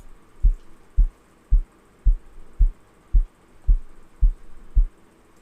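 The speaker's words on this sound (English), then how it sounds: "Boomy kick, which sounds like this." A deep, boomy electronic kick drum for amapiano thumps alone in a steady four-on-the-floor pulse, about nine round, resonant hits with quiet gaps between them.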